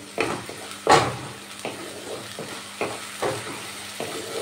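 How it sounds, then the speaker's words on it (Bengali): Onion and tomato paste sautéing in a pan, a soft continuous sizzle punctuated by about seven distinct spatula scrapes and taps at a moderate pace, close and fairly quiet. "এবার এই পেঁয়াজ টমেটোর পেস্টটা ভালো করে একটু কষিয়ে নিতে হবে"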